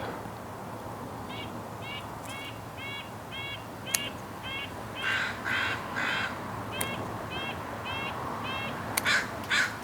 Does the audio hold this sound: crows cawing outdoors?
yes